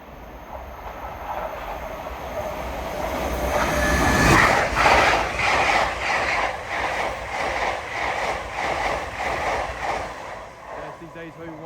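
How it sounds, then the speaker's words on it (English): An LNER Azuma train from London King's Cross to Edinburgh Waverley passes through Alexandra Palace on the East Coast Main Line, rising to a loud rush with rhythmic wheel clatter, then fading, with brief talk beforehand. "passing through now is an LNER Azuma en route from London King's Cross to Edinburgh Waverley"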